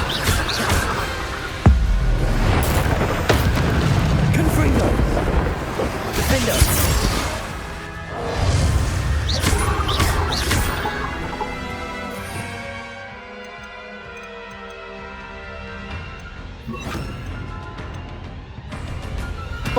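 A Confringo blasting spell from Hogwarts Legacy goes off with a sharp explosive crack, followed by bursts of crashing and booming effects that fade into a quieter, ringing tail near the end.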